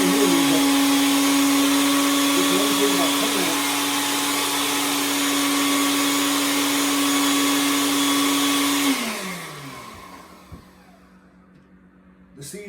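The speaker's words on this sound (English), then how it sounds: "The blender is going to be loud, but I'll only blend for 30 seconds or so." Blender grinding organic seeds into powder, a loud steady motor whine with a strong sustained hum that runs for about nine seconds, then spins down and fades to near silence.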